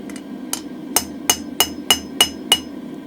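Hot mild steel bar being upset on an anvil with a hand hammer while forging a round drift: seven sharp, ringing blows in a steady, evenly spaced rhythm, close and clear over a low background hum.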